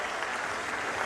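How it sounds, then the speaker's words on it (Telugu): A crowd claps at a Swarnandhra-Swachhandhra public programme with Chief Minister Chandrababu, a steady, even roar of applause heard from some distance. "దీనికి మీరందరూ చేస్తామని గట్టిగా చప్పట్లు కొట్టి హర్షాన్ని"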